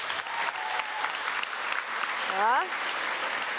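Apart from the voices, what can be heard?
audience applauding in a hall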